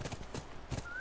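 Horse hooves clip-clopping in The Last of Us: faint, evenly spaced hoofbeats in a steady walking rhythm, quiet and distant, with a thin tone rising near the end.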